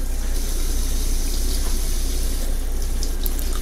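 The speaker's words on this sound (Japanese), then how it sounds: "皮も食べるのでよく洗います。" Running water splashes steadily over apples being washed in a sink, a continuous close tap flow with no talk.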